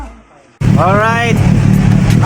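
A Kawasaki Versys 1000 motorcycle fitted with a MIVV titanium silver muffler bursts in loudly and close after a brief quiet, gives one rising rev, then settles into a rumbling idle.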